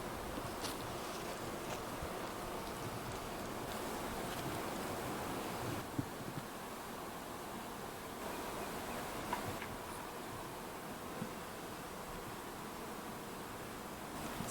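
Honey bees from packages settling into nucleus hives outdoors in Alaska, a steady low buzzing hum under wind noise, continuous and fairly faint.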